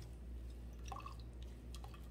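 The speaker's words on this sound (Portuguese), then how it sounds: "Vamos passar bem na peneira. Apertar bem apertadinho." Jasmine and nasturtium flower tea drips through a sieve as the flowers are pressed, a few soft, close liquid drips and splashes over a steady low background hum.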